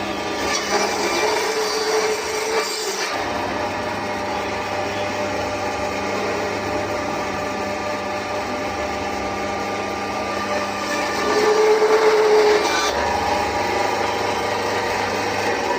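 Electric bone saw machine cutting beef bones and meat: a steady loud motor whine with the blade grinding through bone, the pitch dipping and rising as cuts begin and end, continuous for the whole stretch without talk.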